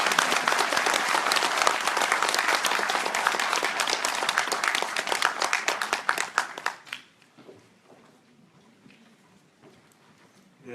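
An audience at a security forum applauds Moon Jae-in as he comes on to give a keynote address, a dense, loud burst of clapping that thins into scattered claps and fades to near silence after about seven seconds.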